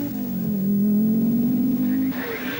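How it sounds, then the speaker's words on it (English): An Opel Ascona rally car on a hairpin at the 1982 Welsh Rally gives a loud, close engine roar that swells and holds as it brakes late and slides through the corner, then drops off with a brief scrabbling tail. "braking late and throwing the Ascona around the hairpin in flamboyant fashion"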